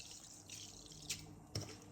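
Water trickles and splashes into a bowl of chicken pieces, quiet and close, with a couple of brief louder splashes amid a soft running flow.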